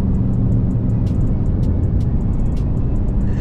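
A turbocharged Toyota Supra accelerates hard, loud and close, with a dense continuous engine roar and brief high-pitched turbo whistles and chirps, without voices.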